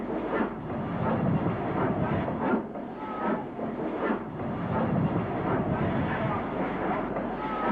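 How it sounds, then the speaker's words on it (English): LMS Jubilee class steam locomotive 45557 New Brunswick at Saltley, in the Birmingham area, sends out a steady rumbling rail roar with rhythmic clanking surges throughout. "this is Jubilee number 45557, New Brunswick,"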